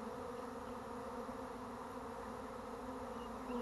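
A honeybee swarm buzzes in a dense, steady drone during a swarm capture, a continuous close hum with no pauses and no voices.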